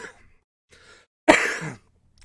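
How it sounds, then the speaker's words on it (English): A single harsh cough breaks through close to the microphone, loud and short, after a stretch of near silence with faint traces of a voice before it. "Little break for a cough there."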